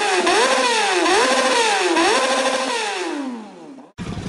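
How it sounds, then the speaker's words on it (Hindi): A cartoon motorbike engine starts and revs loudly, its whining pitch swelling upward in three repeated surges before sliding down and fading, then cutting off abruptly into a brief burst of another sound. "बाबा ने अपनी नई बाइक स्टार्ट की।"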